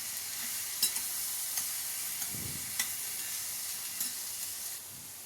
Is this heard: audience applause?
no